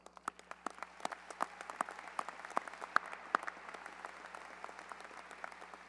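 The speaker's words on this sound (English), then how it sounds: "I invite them to stand and ask that you give them an incredible round of applause" Applause at a high school graduation ceremony for feeder school administrators, scattered, sharp claps from a distant crowd in a large hall, irregular and fairly faint against a low steady hum.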